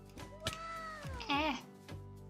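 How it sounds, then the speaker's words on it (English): A pet cat meows twice indoors late at night, drawn-out and fairly close, the second call rising and wavering, with faint room noise and clicks around it. "If you can hear my cat meowing"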